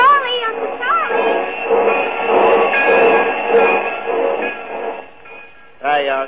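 A train pulls into a station as a radio drama sound effect, a steady rumbling clatter with brief whistle-like tones at the start and end, moderately loud and continuous, no voices heard.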